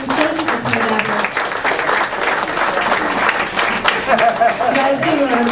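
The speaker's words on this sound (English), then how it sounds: "You guys give an applause." A crowd applauds loudly and continuously, with voices and cheering mixed into the dense clapping.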